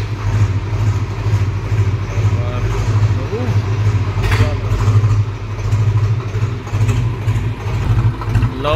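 A farm tractor idles and runs with a steady low engine rumble, ready for a mustard harvest in an Indian field. The hum is loud and continuous, and talk is heard over it.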